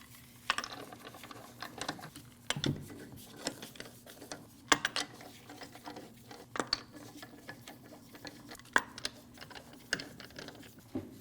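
Ratchet snugging the wheel lug nuts on a 2012-2016 Honda CR-V, quiet scattered clicks and short ratcheting bursts at irregular intervals, close by with no talking.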